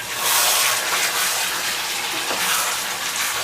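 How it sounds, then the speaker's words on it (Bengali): Hot water pouring into a pot of layer-chicken curry with potatoes, a loud continuous splashing gush that runs steadily for a few seconds, close by and with no talk. "এজন্য আমরা এখানে পানি অ্যাড করব। তবে পানিটা অবশ্যই গরম পানি হতে হবে।"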